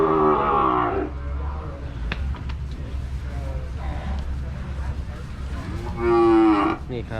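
Red Brahman cattle in a sale pen low loudly, with one long moo at the start and another near the end, separated by quieter background rumble and faint voices.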